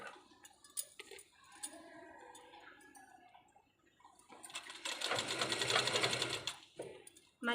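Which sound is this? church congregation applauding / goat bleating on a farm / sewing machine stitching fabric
sewing machine stitching fabric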